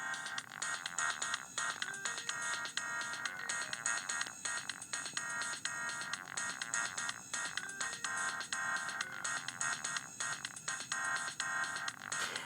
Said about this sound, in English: This music is literally a 2-second loop.